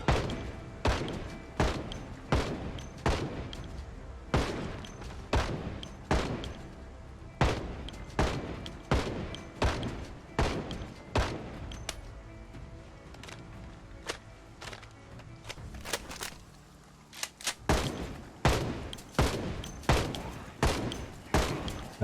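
Rifle gunfire in the zombie survival game Project Zomboid: a long run of sharp, loud shots at fairly steady intervals of about a second. The shots pause briefly near the end, then resume in a quick burst.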